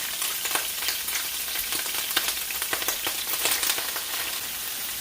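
Cabbage fries in grease in a pan, giving a steady, dense sizzle with crackling pops throughout, close up and with no voices over it.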